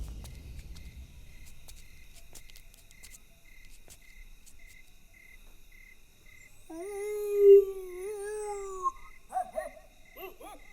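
A man imitates a dog barking as a code word, giving a drawn-out whining howl followed by a few short yelps, fairly close over a quiet night backdrop of steady chirping crickets.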